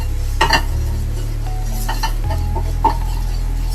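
Spices being stirred in a pot while making tomato rasam, scraping and clinking of a spoon against the metal pan over a steady low hum, with soft sizzling and a few sharper taps.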